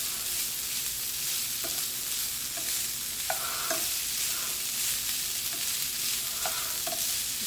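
Sausage and onions sizzle steadily in a hot oiled pan, a dense continuous hiss with a few faint clicks of stirring scattered through.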